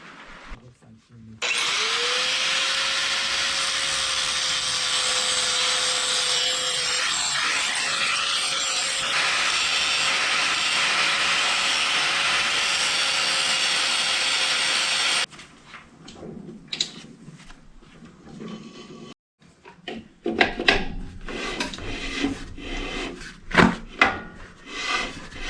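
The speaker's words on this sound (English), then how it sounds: "Okay, maybe that is the brake shoes rubbing." A spinning driveline brake on an '88 Chevy P30 gives off a long, steady whirring rub for about fourteen seconds, close and loud, then cuts off into scattered clanks and handling noises.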